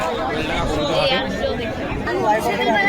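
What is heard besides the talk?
crowd chatter at Beldanga pigeon market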